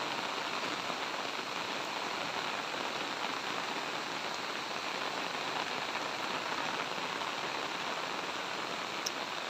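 Rain falls steadily on a 2.7-hectare farm lot planted with fruit-bearing trees, making an even, unbroken hiss that stays constant and fairly soft throughout.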